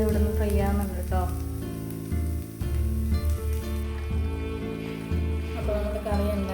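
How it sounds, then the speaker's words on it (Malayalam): Sardines fry in a pan with a continuous, close crackling sizzle that holds steady throughout, over tonal background music. "അതേ സമയം നമ്മുടെ മത്തി ബാക്കിയുള്ളത് ഇവിടെ നിന്ന് ഫ്രൈ ആവുന്നുണ്ട് കേട്ടോ."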